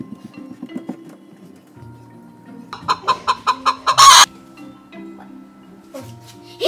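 A rooster and hen on a farm give a close, loud run of rhythmic clucks that builds into an excited burst, with quieter fowl sounds before and after.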